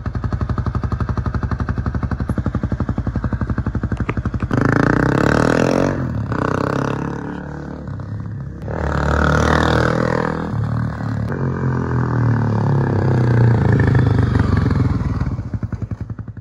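A motorcycle on its first ride of the year, its engine loud and close with a rapid pulsing exhaust beat that rises and falls through several revving surges and gear changes.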